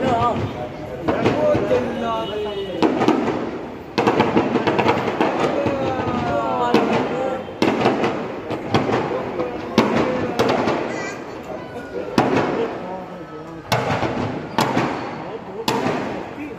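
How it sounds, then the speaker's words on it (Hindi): Fireworks burst in a rapid crackling barrage at a Kumbhkaran effigy festival, dense repeated pops and crackles with brief gaps between volleys, loud and fairly close. "कुंभकर्ण अभी तो आतिशबाजी क्या आतिशबाजी हो रही है"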